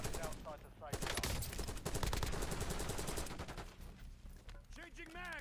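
A Krieg C assault rifle fires in the Call of Duty Warzone video game, with dense rapid automatic bursts crackling loudly for several seconds, overlapping game voice lines and a player's voice.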